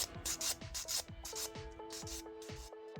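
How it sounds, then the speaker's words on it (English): A hand file scrapes across a dip powder nail in quick, regular back-and-forth strokes, close and moderately quiet, with a steady rasping rhythm and no talk. "So even though we built the apex with the dip powder, we're still getting rid of it with the filing."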